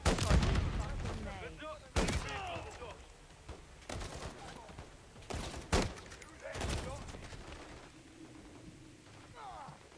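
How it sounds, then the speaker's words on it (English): Repeated grenade blasts in the video game Call of Duty Modern Warfare 3, a series of sharp loud booms every second or two amid gunfire, with a voice talking between the explosions. "Why so many nades?"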